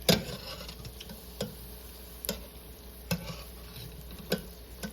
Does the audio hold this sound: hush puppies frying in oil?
yes